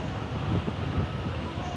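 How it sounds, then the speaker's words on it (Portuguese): Strong typhoon wind gusting across a station platform, a steady loud rumbling roar of broadband noise buffeting the microphone for the whole stretch, with no clear voices over it. "Tá uma ventania."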